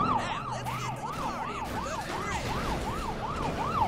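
Police car siren in Dead Rising 3, a loud wailing up-and-down sweep repeating rapidly and evenly over road and engine noise, with no talking.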